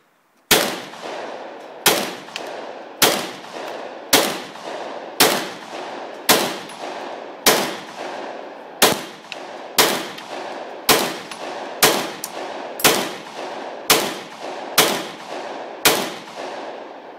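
About fifteen sharp, loud revolver gunshots fired one at a time at a steady pace roughly a second apart, each ringing briefly before the next.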